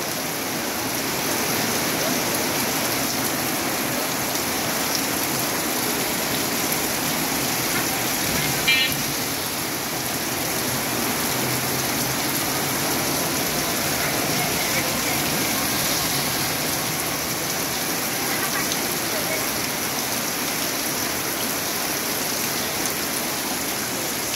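Morning rain falls steadily in Natore, pouring onto a rooftop in a constant, dense hiss that stays loud and even throughout, with no voices and only a faint knock near the middle.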